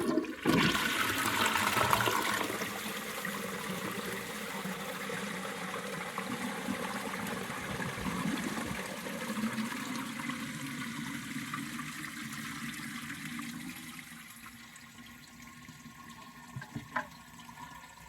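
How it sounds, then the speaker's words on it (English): A freeze-damaged toilet flushes with a loud rushing surge of water that gradually drains and fades into a quieter trickle and refill, ending with a few small clunks; no one talks. "get one more flush here"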